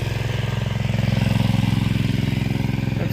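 A small engine belt-driving a cheap PMA generator runs loud and close with a fast, even putter and a steady rhythmic pulse throughout, alone with no other sounds.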